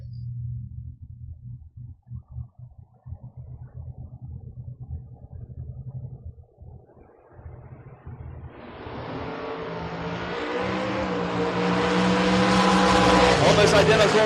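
Drag racing cars, one of them a Camaro, launch down the strip. A low engine rumble with choppy bursts builds into a loud rising roar and climbing whine toward the end, and a faint announcer's voice sits underneath.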